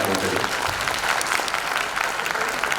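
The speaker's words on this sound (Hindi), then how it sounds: "सबसे पहले हम अपने म्यूजिक टीम के लिए एक बार जोरदार ताली बजाते हैं।" An audience claps loudly in sustained, dense applause for a music team at a Sahaja Yoga gathering, steady and close throughout with no talk over it.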